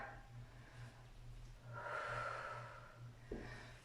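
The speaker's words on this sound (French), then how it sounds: "Expire. On respire bien. Expire." A soft breath out during a Superman back exercise in a fitness class: a faint, brief rushing exhale in the middle of a quiet stretch with a low steady hum underneath.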